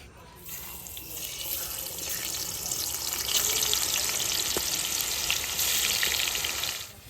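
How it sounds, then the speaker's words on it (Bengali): Sliced potatoes with salt and turmeric drop into hot oil in a pan and set off a loud, steady sizzle that swells after the first moment, then holds as a bright, continuous hiss before cutting off near the end. "তো এবার আমি আলুগুলো দিয়ে দেবো"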